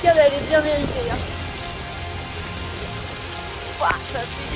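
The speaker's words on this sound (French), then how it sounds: "Touche sous la cascade, elle est bien méritée." A waterfall on the Ehujarré hike pours in a steady broadband rush, and a person standing under it lets out a couple of brief vocal exclamations near the start and again near the end.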